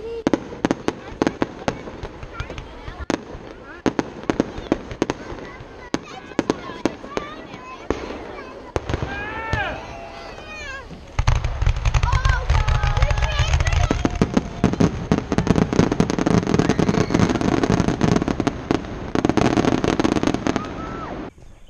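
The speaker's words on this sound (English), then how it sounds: "We're doing the fireworks show." Fireworks show outdoors with rapid crackling bursts and pops, whistling rockets rising midway, then a louder, dense barrage with a deep rumble toward the end; voices chatter faintly at times.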